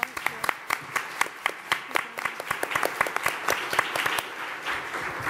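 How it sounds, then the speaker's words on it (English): A seated audience at an LGBT elder housing summit gives a round of applause: many sharp, irregular hand claps, close and steady, continuing for several seconds. "can we give our round of applause?"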